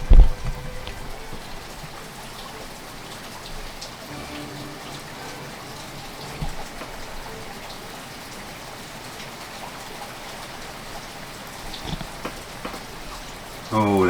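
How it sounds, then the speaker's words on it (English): Steady rainfall, a soft continuous hiss of drops on surfaces, fairly faint and even throughout, with a few louder knocks near the start and end. "Oh, look, rain."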